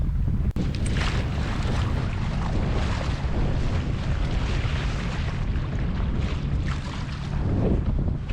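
A wind squall hitting a Raven 26 sailboat at sea: strong, steady gusting roar and rushing air buffeting the microphone close up, with water wash underneath and brief louder surges, no voices.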